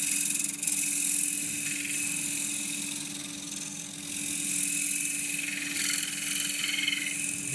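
A bowl scraper cuts wood on a lathe while turning a broken lid into a bowl: steady, close, hissy scraping with a constant motor drone underneath, dipping briefly in the middle and then continuing.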